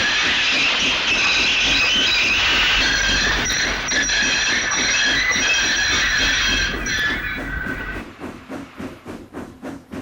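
A train rumbles steadily with squealing wheels and hissing steam, loud and close, its rhythmic clatter thinning out near the end.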